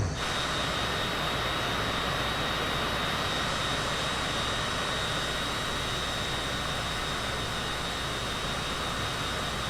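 A jet airliner flying from Billings to Salt Lake City banks through a 180-degree turn while its engines hold a loud, steady roar and a thin high whine. The sound fills the cabin without a break and no one speaks.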